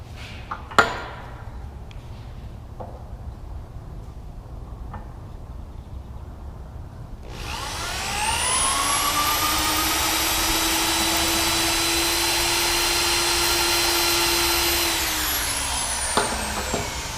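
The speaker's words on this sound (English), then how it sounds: "I'm gonna go ahead and do a center drill in the stock here." A machine spins up to center drill a piece of hex stock after a pilot hole, starting with a few faint knocks, then a steady whirring hum with a rising whine that runs several seconds before winding down.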